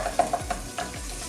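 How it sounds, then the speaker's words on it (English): Minted lamb burgers sit in a pan with a little cooking oil, sizzling at close range, with a few sharp pops and spits over a low steady hiss. "Then into a pan with a little drop of cooking oil, not too much, and in with the first burger, followed by the second."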